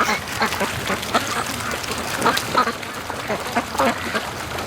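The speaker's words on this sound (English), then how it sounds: "I hear a whole bunch of ducks behind us" A flock of free-range ducks quacking at a lake on a morning rush, a dense chorus of repeated nasal calls overlapping continuously at close range.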